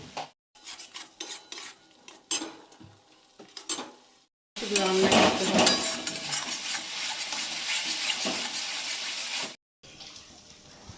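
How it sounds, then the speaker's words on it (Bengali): A spoon stirs ground cumin, chilli, Kashmiri chilli, salt and turmeric in a sizzling pan for prawn malai curry, with scraping and clinking first, then a loud, steady sizzle that cuts off abruptly. "এরপর জিরে গুঁড়ো, লঙ্কা গুঁড়ো, কাশ্মীরি লঙ্কা গুঁড়ো, নুন হলুদ দিয়ে কিছুক্ষণ নাড়াচাড়া করতে হবে।"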